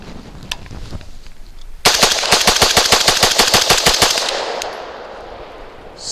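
AR rifle built with POF and ADM parts firing a fast, even automatic string of about twenty loud close shots, followed by a fading echo and then quiet.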